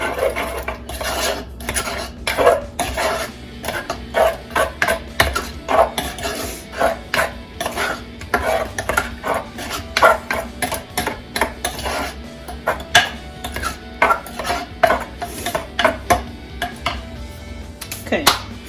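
Seasoned pork for Puerto Rican pernil being mixed by hand in a bowl, a run of wet squelching and rubbing strokes with utensil clinks in an irregular steady rhythm, close up, with no talking.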